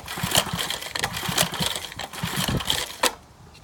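A flathead Briggs and Stratton 5 hp engine, recovered from a dump, is pull-started with a rapid chugging, sputtering rhythm of firing pulses that surges and stops without catching.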